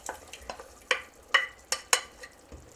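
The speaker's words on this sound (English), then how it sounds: "Potatoes are tender, so I'm going to return the shrimp and garlic" Shrimp and garlic are stirred back into a pot of creamy saffron potato soup. A spoon gives a handful of sharp clinks and scrapes against the pot in an irregular rhythm, close up, with a soft simmer between them.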